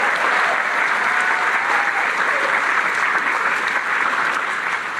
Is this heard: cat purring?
no